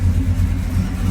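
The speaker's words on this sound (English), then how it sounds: "Good sounding dual exhaust." A 1964 Chevrolet Malibu SS convertible with an apparent crate motor and dual exhaust runs steadily up close, a deep, even low rumble that holds without pause.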